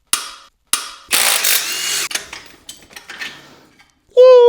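Ratchet wrench working bolts loose on the subframe of a Nissan 240SX, with ratcheting clicks and clanks in short bursts, a longer run of metallic clatter, then a final tonal whine. All of it is close and moderately loud.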